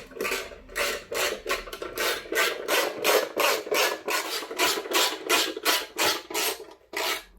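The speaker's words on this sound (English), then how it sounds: "we need to put 3 screws in those 3 holes" Steady rhythmic rasping strokes as three screws are driven into an LG CX OLED TV stand, roughly twenty even cycles, close and fairly loud with no talking.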